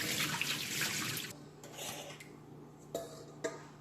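Brine drains from chicken into a kitchen sink, with splashing, running water at first, then drips, light clatter of a container and a couple of sharp knocks against the basin.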